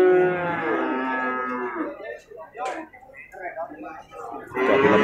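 A young bull calf at a cattle market gives a long, loud moo up close, followed by people talking, then starts another moo at the end.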